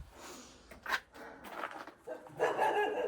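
Dogs barking outdoors near a Victorian conservatory, a few sharp, moderately distant barks scattered across the moment with softer yips and rustling between them.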